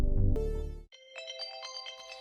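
A phone alarm goes off early in the morning: a loud tonal ringtone begins after a low, heavy passage and then repeats in short bright melodic pulses, with no voices.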